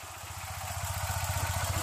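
A Tata Nano's small car engine idles after a cold start, giving a steady close, loud low-pitched rumble with rapid even firing pulses throughout.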